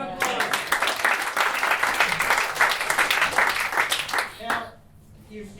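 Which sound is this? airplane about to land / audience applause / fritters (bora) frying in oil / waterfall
audience applause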